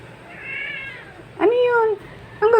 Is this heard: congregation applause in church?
no